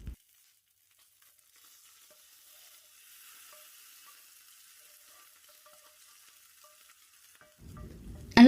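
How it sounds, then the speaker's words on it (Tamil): Whole spices and mustard seeds in hot oil give a faint, thin sizzle and crackle building gently in the background, followed by a louder clatter at the end, with no talking. "பட்டை, கிராம்பு, ஏலக்காய், அன்னாசி மொக்கு, சோம்பு, கடுகு இதை மட்டும் போட்டு பொரிய விடுங்க"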